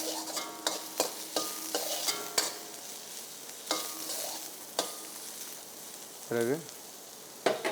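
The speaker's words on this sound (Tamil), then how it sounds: "இது ஆனியன், டொமேட்டோ, தக்காளி, வெங்காயம் நல்லா வதக்கிக்கணும்." Onion and tomato sauté in a hot pan for mushroom masala, with a steady sizzle broken by repeated scraping strokes of a spoon. A voice speaks briefly near the end.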